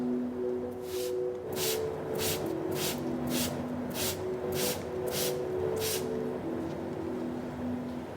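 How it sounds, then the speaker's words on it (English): Nine quick hissing sprays from a spray bottle in a steady rhythm, each a short sharp spritz over a low background hum. "In this particular case, we use a water spray."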